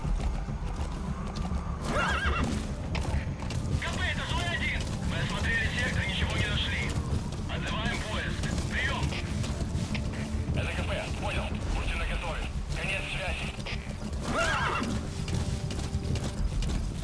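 D-Horse from Metal Gear Solid V snorts and neighs repeatedly over steady clip-clopping hooves, the game's horse sounds mixed with ambient noise and mechanical creaks at a constant level.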